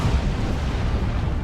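Rocket run explosions in Dawn of War 2, a dense, continuous rumble of booming blasts that stays loud and steady throughout with no pauses.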